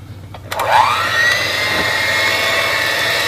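An electric mixer whirring through sweet potato pie filling, starting up with a rising whine and then running at a steady loud drone throughout, alone with no speech.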